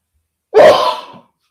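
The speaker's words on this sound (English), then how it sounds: "I just got a sneeze" A single sharp human sneeze bursts out close and loud, lasting about half a second before trailing off, with no talking around it.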